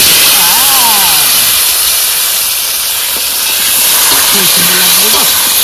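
Potatoes fry in hot oil for a meat curry, giving a loud, continuous sizzling hiss while a person talks over it.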